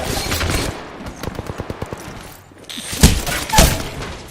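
An online shooter game plays a rapid burst of automatic gunfire, about seven sharp shots in quick succession, then a couple of heavier, booming blasts, all loud and close with no talk.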